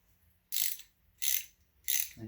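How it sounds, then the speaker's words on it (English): Ratchet wrench clicking as engine connecting rod bolts are tightened during a Quad 4 engine build, three short bursts of rapid ratcheting separated by pauses, close and clear. "Whenever I tighten these up, I don't want to tighten one side up all the way and have the cap on there all crooked."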